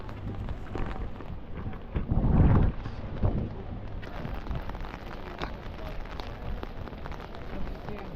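Rain falling on the streets of Prague in the old town, a steady broadband hiss with a louder, heavier gust of drops and wind around two seconds in, then a constant patter.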